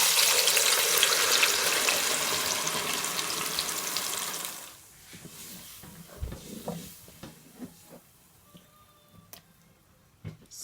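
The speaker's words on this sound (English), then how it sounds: "So I'm going to pour the tomato." Blended tomato poured into hot palm oil for a stew, a loud hissing sizzle and splash for several seconds that then dies away into quiet pops, clinks and faint kitchen knocks.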